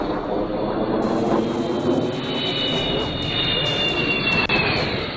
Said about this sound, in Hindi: गर्जना के साथ हवा को चीरते हुए आसमान से जमीन पर वायुवीर फाइटर जेट्स की लैंडिंग हुई